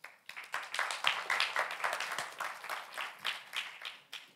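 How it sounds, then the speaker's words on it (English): An audience at a Latin America Day conference claps to welcome the panelists. The applause is dense and steady, with sharp individual claps standing out, and it tapers off near the end. "Welcome them with a warm applause."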